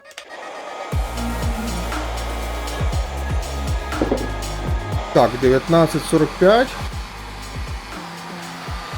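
A ProCraft PH 20 cordless heat gun on an 8 Ah battery blows with a steady, loud whirring roar, its motor tone shifting a few times; someone speaks briefly over it.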